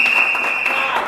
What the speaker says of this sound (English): Can we give a round of applause to our political leader, the Honorable Kamala Prasad Bisesa,